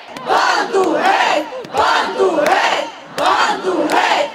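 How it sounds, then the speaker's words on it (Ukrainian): Thousands of protesters in the centre of Uzhhorod, Ukraine, roar in loud massed shouts that come in three rhythmic surging waves, each swelling and breaking off before the next chant begins. "в центрі міста вже кількатисячний натовп рішуче налаштованих ужгородців"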